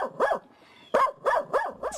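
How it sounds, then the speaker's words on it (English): Guard dogs barking behind a gate at a home, a few sharp, close barks in quick succession after a brief pause, loud and alone. "So maybe it's not the most aggressive bark."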